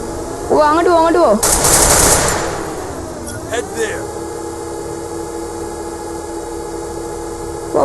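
Rapid burst of machine-gun fire in the video game Cosmic Racer, loud and close for about a second, with a person talking before and after the shots.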